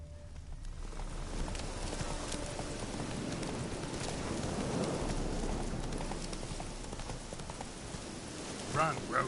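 Hooves of the horse Roach in The Witcher 3 Hearts of Stone, a steady clip-clop of galloping under rain-like background noise, with a voice talking over it.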